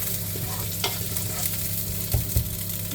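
Onions stirred in a pan with chicken for a quick tagine, a steady sizzle running throughout with a few louder scraping knocks of the spoon near the end, close and without talk.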